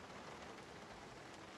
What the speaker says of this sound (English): rain is starting to pour